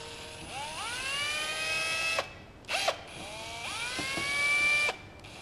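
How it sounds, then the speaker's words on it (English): A hand drill tapping holes in factory parts: the motor whines up and runs steadily in two long bursts, separated by a short clatter of metal. "we're going to have a crack at doing it with the trusty old hand drill."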